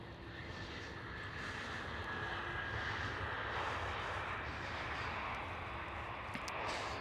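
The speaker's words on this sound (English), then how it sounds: "This looks like a Pegasus A321 to me" A Pegasus Airbus A321 at Amsterdam Schiphol airport, a steady distant jet engine roar with broadband rumble that swells slightly and stays constant, heard from a spotting position with no talk.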